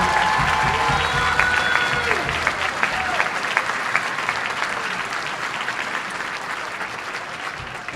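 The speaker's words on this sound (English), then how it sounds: "Can we get one round of applause for Stephen Renfro, Hunter Airborne, and Joe Salisbury for their solo selection?" Audience at an All City Band concert applauds the band soloists after their solo selection: a dense, sustained wash of clapping from a large crowd that holds steady throughout, with a few whistles riding on top.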